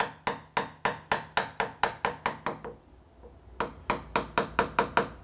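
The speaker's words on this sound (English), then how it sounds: "So chisel in there and then tap it down vertical." Chisel tapped straight down with a mallet to pare waste from a tenon haunch on a cabinet, a steady run of about twelve sharp, close wooden knocks, a short pause, then another brisk series.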